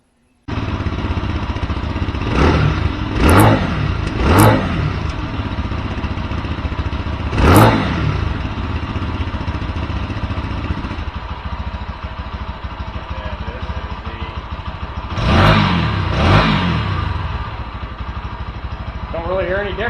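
Lifan KPM200 motorcycle engine idling close by, with several sharp throttle blips rising and falling at irregular intervals, alone without voices.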